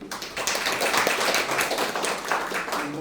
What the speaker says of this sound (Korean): 수고하셨다고 박수 한번 주시면 좋겠습니다